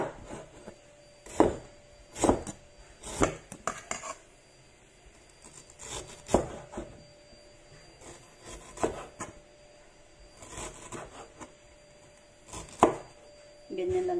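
Ginger being cut with a knife on a cutting board while a milkfish dish is prepared, giving about seven or eight separate, sharp chopping knocks spread unevenly across the stretch, close and clear with no talking.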